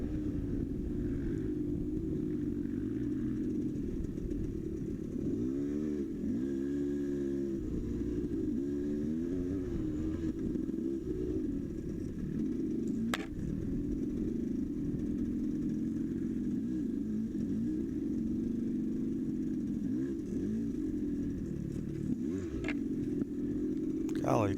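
Enduro motorcycle engine droning at the 2013 Gobbler Getter Enduro test, a steady low hum that rises and wavers in revs midway, fairly distant and faint, with a voice talking over it.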